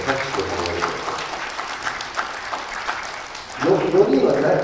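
Audience at an outdoor panel discussion on forests and idols claps, a moderate patter of applause that gives way to a voice speaking near the end.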